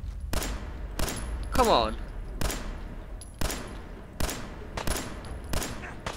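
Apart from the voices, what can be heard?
pistol gunfire in video game Fallout 4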